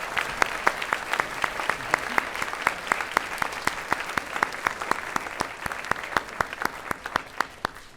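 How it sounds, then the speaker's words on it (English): An audience at an artist talk applauds steadily, a dense run of sharp claps with a clear rhythmic beat, fairly close and sustained throughout without any voices. "So please, everyone, give a warm round of applause for every single person on this list."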